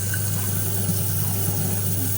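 An InSinkErator garbage disposal grinds household food waste such as bananas with running water, a constant low motor hum under a wet churning wash, steady and close throughout.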